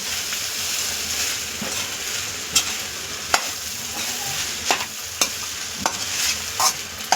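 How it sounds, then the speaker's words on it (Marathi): Cooked white rice is stir-fried with vegetables on a tawa for street-style tawa pulao, with a steady close sizzle and hiss broken by sharp scraping and clinking strokes of the spatula, and no voices. "आता जो आपण हा व्हाईट राईस टाकून घेतलाय तो पूर्ण परतून घेऊया त्या भाज्यांमध्ये"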